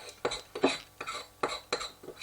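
Homemade paste bait for live-bait fishing being stirred with water in a bowl, a run of seven short scraping, clinking strokes in an uneven rhythm, close and fairly quiet, with no voices.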